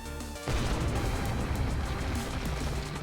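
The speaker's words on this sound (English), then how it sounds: "There are explosions going off all over." Loud, dense crashing and booming explosions erupt after a brief lead-in of game music, filling the scene with continuous heavy blasts and rumble as a facility collapses in the Sonic Forces video game.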